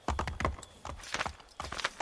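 Horse hooves clip-clop in Assassin's Creed 3, a short run of quick, close hoofbeats in uneven clusters, fairly quiet.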